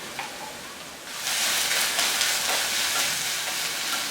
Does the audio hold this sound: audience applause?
no